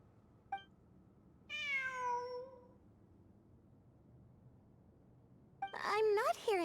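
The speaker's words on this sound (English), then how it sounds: "It really is a cat." A cat meows in the Genshin Impact game: a faint chirp, then a clear drawn-out meow, and after a quiet gap a louder, more insistent burst of meowing.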